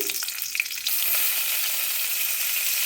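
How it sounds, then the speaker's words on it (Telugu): Urad dal and chana dal fry in hot oil for Rayalaseema uggani, giving a steady, close hiss of sizzling that swells after a moment and then holds on its own. "ఇప్పుడు దీంట్లో మినపప్పు, శనగపప్పు వేసుకొని అవి వేగాక పచ్చిమిర్చి"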